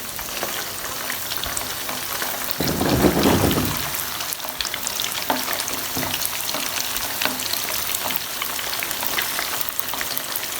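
Chicken koftas, made with green coriander, green chili and spices, frying in a pan over medium heat, a continuous close sizzle with a louder surge of spatter as more pieces go in, no talking.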